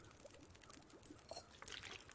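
Water being collected in the video game The Long Dark, a faint pouring and trickling sound that runs for a couple of seconds with a few soft splashes.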